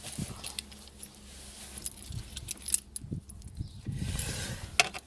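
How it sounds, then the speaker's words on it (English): Car keys jangle and clink up close, rattling in short irregular bursts during an immobiliser repair on a VAG car such as an Audi, VW, Seat or Skoda, with no talking. "Let's get the keys."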